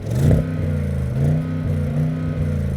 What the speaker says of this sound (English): So I've got this car into its sportiest settings. Let's rev it.